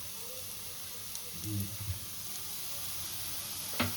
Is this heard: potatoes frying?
yes